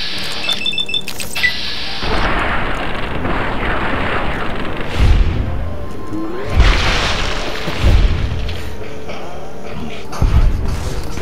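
Gunshots in the video game Fallout New Vegas, a handful of heavy booming shots at irregular intervals over loud continuous game noise, each landing as a deep thump.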